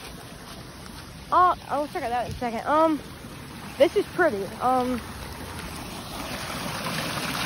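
A waterfall pours through flooded woods as a steady rushing wash in the background, while a person talks briefly over it at close range.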